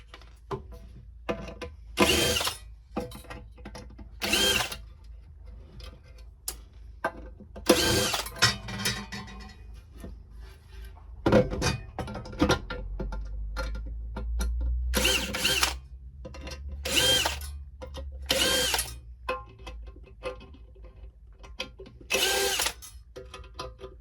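A power screwdriver removes small 3 mm flathead screws from a Huawei LTE 4G basestation in repeated short whirring bursts, separated by pauses with quieter handling clicks and rattles, close to the listener, with no talking.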